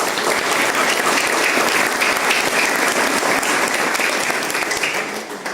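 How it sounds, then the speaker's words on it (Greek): A crowd at a Greek club's New Year pita-cutting event gives a dense, steady round of applause, loud and sustained, tapering slightly at the end. "Στηρίζουμε τις αθλήτριες, στηρίζουμε τα κορίτσια και αυτές αξίζουν πραγματικά ένα χειροκρότημα."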